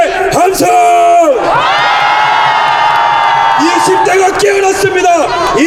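A large rally crowd at a Daegu station plaza roars in a sustained mass cheer and shout on cue, loud and close, after a man's amplified speech; the speaker's voice returns briefly at the end.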